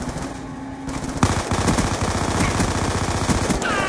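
Rapid automatic gunfire from the video game Black Ops II rattles loud and continuous, a dense burst of shots that begins after a short lull.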